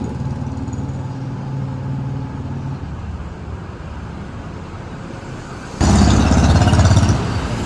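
Road vehicle with a putt-putt engine sound driven at night: a steady engine drone that surges sharply louder and closer near the end as it passes, with no talking.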